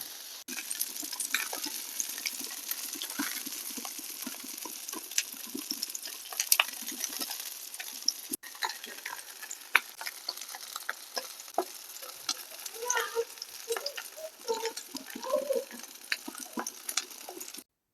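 A fish fillet frying in a pan over a medium flame crackles and sizzles quietly and steadily, with scattered sharp pops and small ticks over a soft background hiss.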